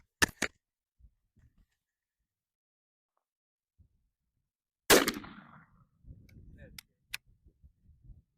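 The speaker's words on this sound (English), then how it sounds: "We're going to take a shot at 32 and see how tight it is." One loud, sharp shotgun blast aimed at a target 32 yards away rings out and fades quickly, with scattered clicks before it and a voice speaking briefly afterward.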